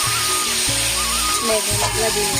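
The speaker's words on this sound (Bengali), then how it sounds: "আজকে আমি রান্না করছি উনুনে" Food sizzles steadily while being cooked on a clay mud stove at home, a constant frying hiss underneath someone talking.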